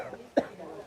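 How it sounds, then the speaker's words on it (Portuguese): A single sharp cough from a person after drawing in and holding a breath, demonstrated during a swallowing and airway-clearing workshop; one brief close burst amid quiet room tone. "puxa o ar e segura, tosse"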